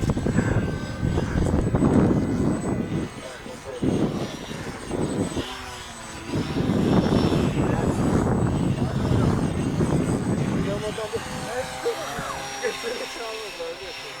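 Extra 330 3D depron RC model airplane flying nearby, its engine droning steadily throughout with a rising and falling whine as it passes, with people talking and laughing over it.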